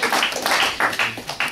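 A church congregation at a Sunday wedding blessing service claps in a brief, lively burst, with rapid, uneven hand claps close by and faint voices underneath.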